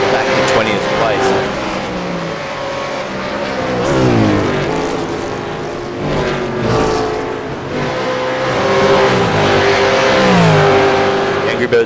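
V8 Veterans race cars lapping Road Atlanta, engines revving and rising and falling in pitch as cars pass, continuous and loud under a race commentator's voice.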